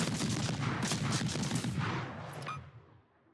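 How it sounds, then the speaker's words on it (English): Ship guns in a naval combat video game fire a dense rolling barrage of shots, close and loud for over two seconds. The volley then trails off into a fading echo. "those shots flew over the ship."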